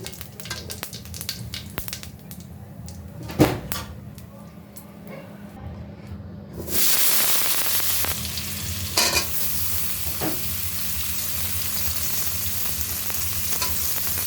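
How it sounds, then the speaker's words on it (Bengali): A sudden loud hiss of cumin seeds hitting hot oil starts halfway through and keeps sizzling steadily, after quieter clinks and scraping of a pan. "একটু দিয়ে দিলাম জিরা ফোড়ন"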